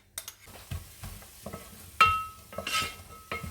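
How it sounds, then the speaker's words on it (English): Onions stirred into melted butter ghee sizzle in a pan, with a steady frying hiss broken by repeated scraping stirs and light clinks of a utensil against the pot. "As soon as the butter ghee melts, we can add in the onions to caramelize."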